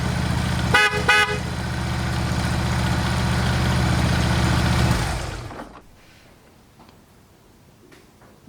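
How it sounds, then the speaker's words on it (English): A brief double blast of a dual-tone motorcycle horn over a steady idling engine, which then cuts off, leaving near silence. "dual track moto horn"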